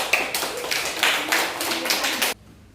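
A primary school class applauds a discussion group, dense overlapping hand claps forming a loud, fairly steady roar with children's voices mixed in, ending abruptly into near quiet.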